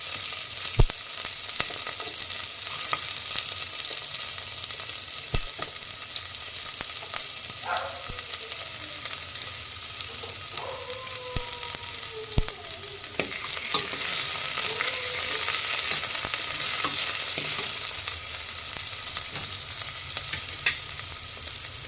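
Urad dal, green chillies and onions frying in a pan for a tomato and okra curry: a steady, dense sizzle with occasional stirring clicks and scrapes throughout, close and uninterrupted by speech.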